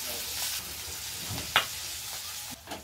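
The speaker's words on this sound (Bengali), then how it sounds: "লঙ্কা রসুনটা ভাজা হয়ে গেছে" Chopped garlic and chili fry in a pan with salt and turmeric for a village-style taro leaf dish, a steady close sizzle with a few sharp crackles and clinks.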